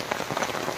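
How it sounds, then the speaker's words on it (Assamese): Steady rain falls outside a village house, a dense, continuous patter heard from indoors, loud and even with no voices. "বৰষুণ দিছে বাহিৰত"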